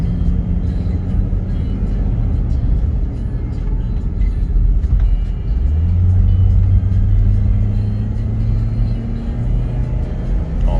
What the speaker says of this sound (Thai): ออกตัวเกียร์หนึ่ง เกียร์สอง